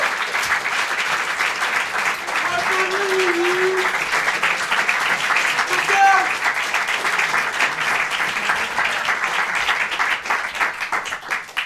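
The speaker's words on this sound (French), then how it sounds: "Je vous demande d'applaudir le breton futé" Applause from the audience in a small comedy theater, a sustained and even wash of many hands clapping that holds steady and fairly loud, with a few faint voices beneath it.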